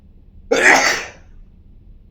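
A single sharp sneeze from a person with a cold, close and fairly loud, bursting out suddenly and trailing off within about half a second, followed by quiet.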